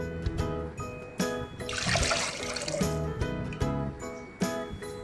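Water poured into a pot holding pepper mix and stock while making ikokore, a Nigerian water-yam porridge, a brief rushing pour midway through, mostly under steady rhythmic background music.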